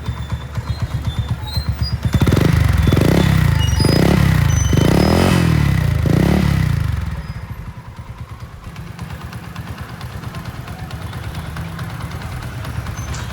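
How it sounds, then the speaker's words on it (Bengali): A Dayang 80cc motorcycle with a new engine, converted to a classic-style bike, revs loudly in several rising and falling pulses, then settles into a steady, close idle with a rapid putter. "ইঞ্জিনের সাউন্ডটা শুনেন ইঞ্জিনের সাউন্ডটা কিন্তু ক্লিয়ার আছে"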